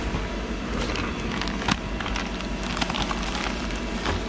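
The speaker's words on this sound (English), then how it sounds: "that's a lathe running a load of parts on the bar puller" A lathe machining a load of parts on a bar puller makes a steady, dense mechanical rumble with faint clicks and ticks throughout, nearby in a shop.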